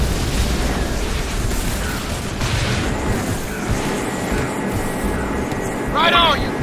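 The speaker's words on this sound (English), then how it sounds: "Missile destroyed." Missile destroyed in an explosion in the Iron Man video game for Xbox 360, heard as a dense, loud rumbling blast and roar that runs throughout, mixed with game voices and a brief sweeping electronic tone near the end.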